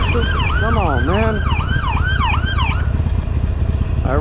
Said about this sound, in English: that's like the 4th or 5th ambulance I've seen.